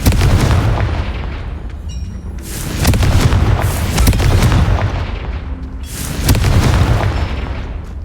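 Repeated heavy booming blasts from the Confringo blasting curse in the game Hogwarts Legacy, three big explosions with rumbling decay spaced a few seconds apart, loud and close.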